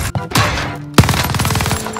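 Gunfire in the video game Warzone: a sharp, loud shot cracks out, followed by a rapid, steady burst of automatic fire that keeps going to the end, close and prominent.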